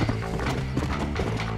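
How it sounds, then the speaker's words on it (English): A DLC horse in the Red Dead Redemption video game moves with a quick clip-clop of hooves, rhythmic and close, layered over dense game ambience and mechanical clicking. "This is a DLC horse."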